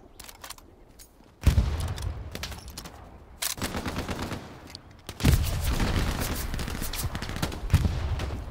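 Gunfire from the WWII shooter Hell Let Loose: bursts of automatic weapon fire and sharp artillery cannon blasts come in three loud waves, dense and continuous after each onset, with no talking.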